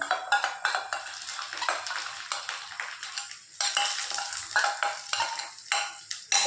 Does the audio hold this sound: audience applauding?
no